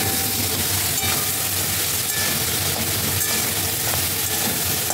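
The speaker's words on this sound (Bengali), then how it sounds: "তো দেখুন, এবারও ভালো করে ফ্রাই করছে সবজিটাকে" Salted, turmeric-dusted vegetables fry in a pan for khichdi, giving a steady, close sizzle that runs unbroken throughout, with no talking.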